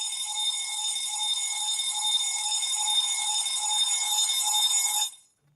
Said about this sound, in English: My alarm clock is still going off.